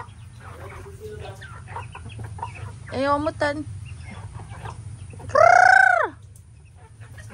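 Chickens cluck while people try to catch them, and a bird lets out a loud drawn-out call near the end, with people talking nearby throughout.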